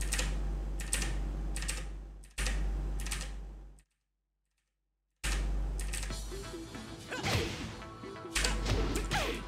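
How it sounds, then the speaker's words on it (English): Computer keyboard typing during a warm-up before Tekken 7 play, with dense clattering keystrokes in bursts, a short silent gap partway through, then busier, louder clicks and thumps resuming. "if you hear me typing"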